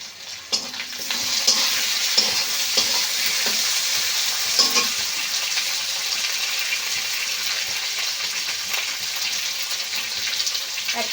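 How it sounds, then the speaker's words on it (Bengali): Onions and tomatoes stir-fried with salt in a pan for a Bengali-style egg curry give a steady, close sizzle, broken by the light clicks and scrapes of a spoon being stirred, with no talk. "পেঁয়াজ আর টমেটো লবণের সঙ্গে বেশ ভালো করে একটু কষে নেব"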